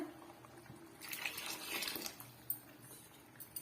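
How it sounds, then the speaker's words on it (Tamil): Water poured into a simmering gram flour salna masala for parotta, a soft splashing burst lasting a second or two, fairly quiet against a faint background. "தேவையான அளவு தண்ணி சேர்த்துக்கலாங்க."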